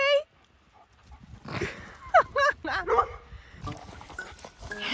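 A muddy dog whimpers with high thin whines, then gives a few short yips and barks close by, while someone talks briefly.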